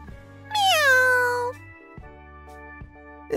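A cat gives one loud, clear meow that rises and then slides down, followed by quieter background tones with no talking.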